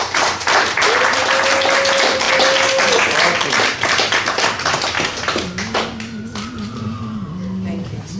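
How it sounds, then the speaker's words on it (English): An audience gives a round of applause at a ceremony, steady clapping for several seconds under a speaking voice, thinning out toward the end. "You guys give them a round of applause"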